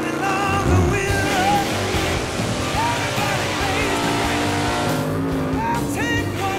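Drag race cars launching at Bristol Dragway, a loud, dense engine roar that holds steady throughout with rising and falling tonal whine, crowd and track ambience mixed in.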